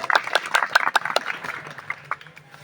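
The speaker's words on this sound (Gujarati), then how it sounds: "તાળીઓથી વધાવીશું." An audience claps at a Ramapir devotional gathering, a burst of scattered, uneven handclaps that thins out toward the end, fairly close and loud with no talk over it.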